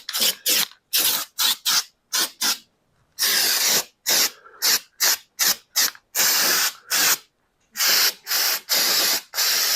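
Short bursts of Krylon truck bed coating sprayed from an aerosol can onto a vehicle wheel well part, a rapid series of close, loud hissing blasts with brief pauses and a few longer sustained sprays, no talking.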